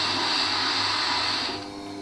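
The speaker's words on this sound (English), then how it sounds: "It's time to grind the other wing." A WG250 wet stone grinder sharpens a carving V tool against a coarse 200-grit wheel, giving a steady, loud whirring grind with a bright hiss that drops off and quietens near the end.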